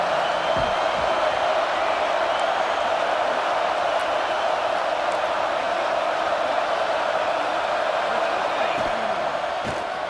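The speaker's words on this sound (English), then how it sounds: "the crowd coming to life here, trying to help this defense down in the red zone" Stadium crowd noise at a college football game, Alabama versus Texas, as the defense holds in the red zone: a steady, loud roar of many voices fills the whole stretch without letup.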